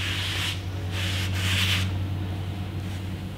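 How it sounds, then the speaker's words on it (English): Towel rubbing dirt and rust off a steel brake rotor after electrolysis rust removal, a steady close scrubbing with a few brighter swipes over a constant low hum. "I've got the rotor right here, and I'm just gonna wipe it with a towel"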